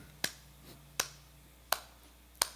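Four sharp, crisp hand claps, evenly spaced about three-quarters of a second apart, beat out an upbeat rhythm during a Yamaha guitar event, each clap close and distinct over a low, steady hum.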